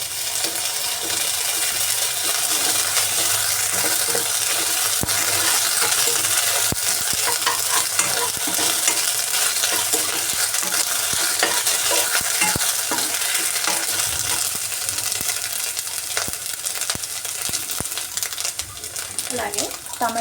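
Ginger paste stir-frying in a hot pan for pasta, a dense, steady sizzle with constant scraping of the spatula, close and unbroken for the whole stretch.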